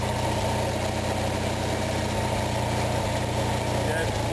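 A small Onan engine idles steadily with a low, even rumble and faint periodic hitches while its carburetor idle mixture is being adjusted.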